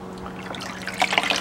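Hot soapy water with washing-up liquid trickles and splashes into a bucket, a soft close pour that grows louder toward the end.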